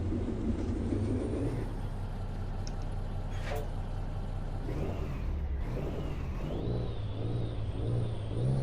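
A heavy truck engine in American Truck Simulator drones with a deep, steady low rumble as the rig cruises at speed, with faint tonal shifts from gear and revs layered above.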